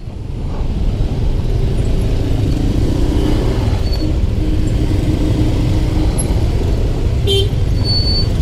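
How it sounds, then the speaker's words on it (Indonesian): Jammed street traffic at night in Medan, with a constant low engine rumble from cars, buses and trucks idling close by and a few short horn toots breaking through near the end. "Di sini jadi macet nih."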